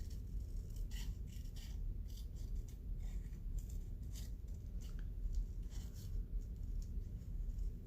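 Scissors snip through paper, cutting out pieces for handmade cards: a quiet, close series of short crisp cuts and scrapes at an uneven rhythm, with no talk.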